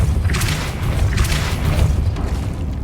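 A Depulso force spell in Hogwarts Legacy lands as a few booming impacts in quick succession, loud and close, over a rumbling game soundscape with no talk.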